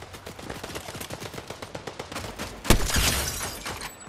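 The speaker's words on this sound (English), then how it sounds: "I heard more shooting at northwest." Rapid automatic gunfire in a first-person shooter video game, a dense run of close shots ending in a louder blast and crackle.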